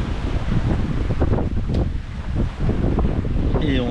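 Strong wind roars across a sailing boat running downwind at about seven knots in an 18-knot apparent breeze, constant and loud with gusty buffeting against the microphone, water noise underneath and a brief creak near the end.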